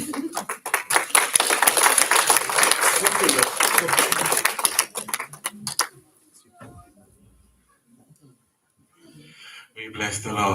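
A church congregation at a pastor's installation service bursts into dense, rapid applause that fades out after about six seconds, followed by near silence and then a voice speaking.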